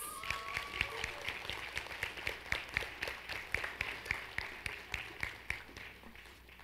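An audience at an academic honors convocation applauds presidential award recipients, giving a steady, fairly distant round of clapping with a pulsing rhythm of sharper individual claps that slowly tapers off near the end.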